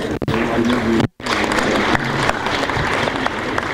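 Applause from an audience at a police security summit, steady clapping from a crowd in a hall that carries on for several seconds, broken by one brief cut to silence partway through.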